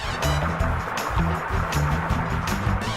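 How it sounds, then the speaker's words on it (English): Water splashes and sloshes vigorously in close, repeated bursts, a busy turbulent churning with no voices. "the water started splashing everywhere"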